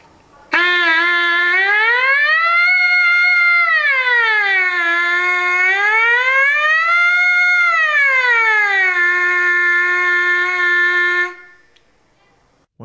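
Trumpet mouthpiece buzz, loud and close, sliding smoothly up and down in pitch in two rising and falling sweeps before settling on a steady lower note for several seconds, played alone.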